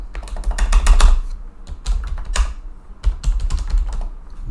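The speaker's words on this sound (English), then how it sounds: "I'm typing on the other screen, so that's why you don't see it." Typing on a computer keyboard at a desk, with quick clusters of close, clicky keystrokes separated by short pauses.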